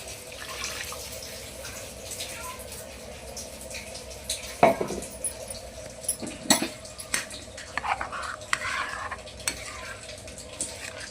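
Fried chicken is tossed back into a pan with leaves and a masala over high heat, with a little too much water. It makes a wet, steady sizzle broken by sharp clinks and scrapes of stirring against the pan.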